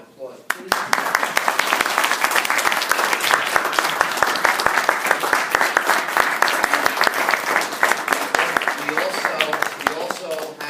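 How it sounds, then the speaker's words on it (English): A ceremony audience applauds steadily at a proclamation and key-to-the-city presentation, a dense, even wash of many hands clapping that starts abruptly and holds loud throughout. "And a round of applause, please."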